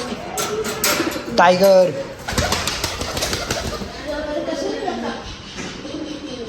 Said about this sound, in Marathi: आपण आता ना कबुतर बाहेर घेऊन चाललो.